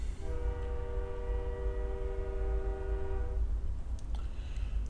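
Train passing near a house across the street from the tracks, sounding a long, loud, steady horn blast for about three seconds over a heavy low rumble of rolling wheels that continues after the horn stops.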